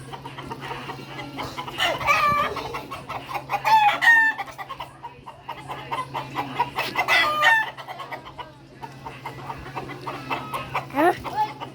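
Chickens cluck and a rooster crows repeatedly at close range in a backyard flock being bathed, with steady calls throughout and a low hum underneath.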